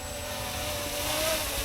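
A Holystone HS790 drone hovers directly overhead with a steady, continuous propeller whine and broadband rotor noise at constant loudness, no speech.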